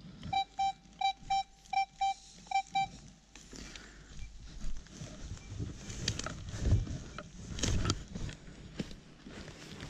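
A series of short electronic beeps from an X-Terra metal detector pulses rapidly in a regular pattern, followed by rustling, scraping and shuffling noises outdoors.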